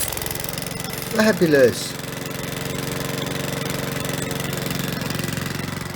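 A Mountfield petrol lawnmower engine cranks with a few rough sputters and catches, then settles into a steady running drone close by; a person speaks briefly over it.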